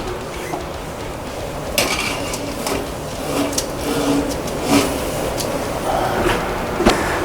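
A baking tray of meatballs is slid into a kitchen oven during meal prep, with metallic clanks, scrapes and a door thud rising over a steady background hum, close and moderately loud.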